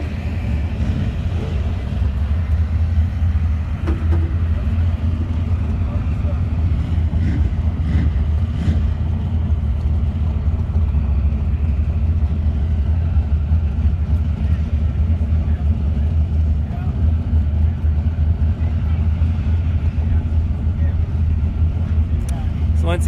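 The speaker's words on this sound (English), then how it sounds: "Next cars are fired up." Sand drag race cars fired up and idling at the Avenal Sand Drags Spring Nationals in California, a loud, steady low engine rumble with wind buffeting and an announcer talking over it.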